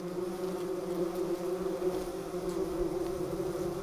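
A bumblebee queen buzzes steadily inside an abandoned mouse nest, a close, continuous low drone with a clear humming pitch and no pauses.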